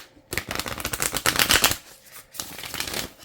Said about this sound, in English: I'm going to shuffle them one time.